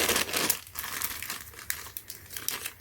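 A plastic zip bag for dent repair tool tips crinkles and crackles up close, a dense burst of rustling at first, then sporadic sharper crinkles.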